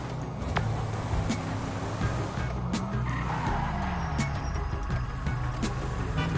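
A car drives in GTA 5 with a steady engine drone and occasional tire squeals and thumps, continuous and close.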